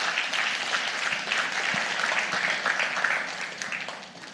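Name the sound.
applause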